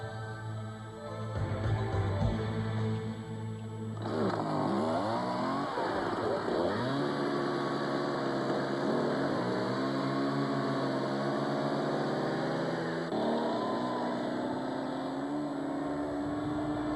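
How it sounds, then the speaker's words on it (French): Chainsaw engines run in the Arctic silence, a continuous droning whine that shifts pitch as the motors rev up and settle, steady and fairly close throughout. "le bruit du moteur des tronçonneuses va rythmer les journées de travail"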